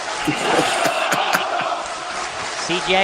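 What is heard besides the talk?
wrestling crowd shouting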